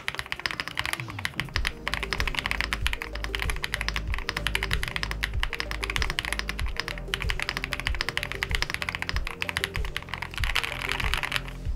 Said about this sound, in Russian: И давай немножечко потайпим.